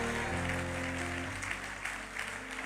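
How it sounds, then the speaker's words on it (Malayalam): A church congregation claps their hands in thanks during a Malayalam Christian sermon, a brief, soft wash of many hands clapping over faint music. "ഒന്ന് കൈയടിച്ച് കർത്താവിന് നന്ദി പറഞ്ഞേ."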